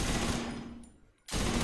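Dense, rapid machine gun fire from a video game weapon in The Division 2 rattles loudly, fades briefly to near silence, then resumes abruptly at full volume.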